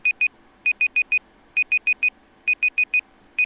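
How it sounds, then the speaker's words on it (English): Auction timer going off at a live auction: sharp, bright electronic beeps in quick bursts of two to four, repeating steadily with short gaps, clear and alone. "All right, the timer is done."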